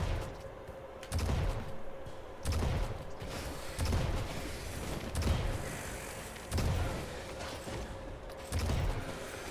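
Repeated bursts of turret gunfire in the video game Risk of Rain 2, a series of heavy low thumps spaced about a second apart over steady rumbling combat noise, with no voices.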